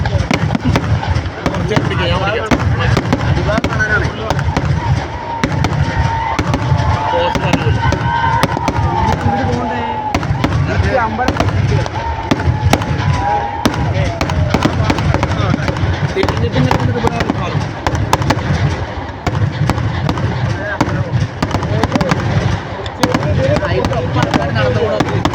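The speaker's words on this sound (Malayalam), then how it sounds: "വെടിക്കെട്ടിന്റെ ആശാമാരാണ്" Fireworks at the Kavasseri pooram festival crackle and pop in a dense, loud, unbroken barrage of rapid bursts, with crowd voices mixed into the din.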